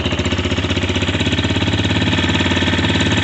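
Single-cylinder engine of a 2019 XMOTOS 250cc dirt bike idling on half choke, close and loud, with a steady pulsing throb and a slight rise in revs.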